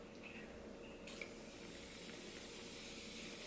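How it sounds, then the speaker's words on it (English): Setting spray spritzed onto a face, a soft, faint misting hiss starting about a second in and continuing steadily against quiet room tone. "So yeah, I'm gonna give it a little spritz."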